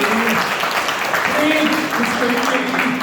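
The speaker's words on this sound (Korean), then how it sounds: "우리 안산 사람으로서 박수 한번 쳐주시고" Audience applause at a book concert in Ansan, a dense, loud patter of clapping from a crowd with voices mixed through it.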